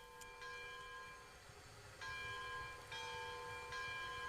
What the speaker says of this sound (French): Mais oui, la cloche, elle fonctionne!